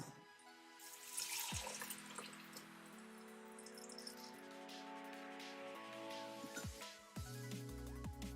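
Coffee pours steadily from a press into a cup nearby, a continuous trickle whose pitch shifts as the vessel fills, with a few soft clinks.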